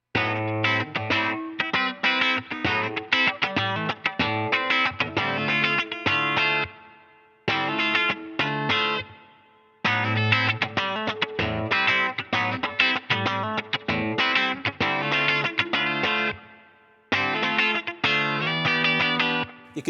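A bright, twangy Telecaster electric guitar on its bright clean pickup plays rhythmic funky chords and riffs in repeated phrases, with short gaps between passages, no voices.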